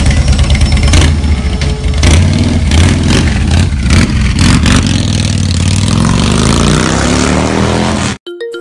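A loud Harley motorcycle engine rumbles close by, revving up and down repeatedly with a deep throaty growl before cutting off abruptly near the end.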